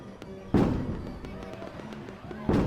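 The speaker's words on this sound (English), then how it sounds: "Oh no, the fireworks are making him panic." Fireworks burst at a carnival in the indie horror game Letters of Bernard Thorne, two heavy booming blasts with a rumbling tail, close and loud over a busy crowd-like background.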